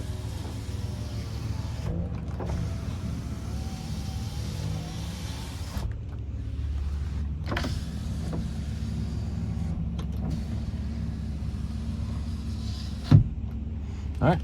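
Power windows on a 2010 Honda Odyssey running up and down, a faint continuous motor hum with soft thumps as the glass stops, heard inside the parked van.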